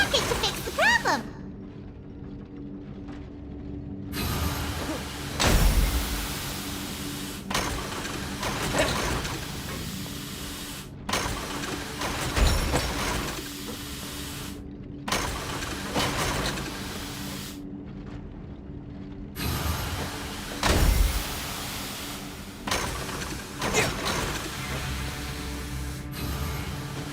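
A widget-processing machine runs in a video game with a continuous mechanical hiss and hum, broken by repeated whooshing bursts and thumps every few seconds, fairly loud throughout.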